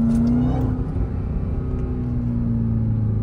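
Jeep Trackhawk engine pulling hard on a public road in traffic, a loud steady drone with a rising tone, continuous and close throughout.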